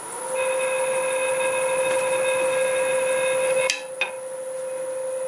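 An English walnut bowl spins on a wood lathe at about 800 RPM while a freshly sharpened half-inch bowl gouge works it, giving a steady, even motor whine that stops abruptly near the end with a sharp click and a quieter hum.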